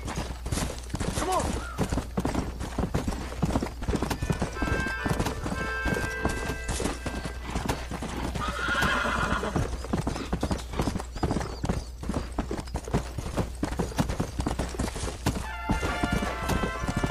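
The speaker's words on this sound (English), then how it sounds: "Yun, wild horse." Wild horse in the video game Red Dead Redemption, with a steady clip-clop of hooves running throughout and a few neighs and whinnies breaking in, loud and close over a constant low game rumble.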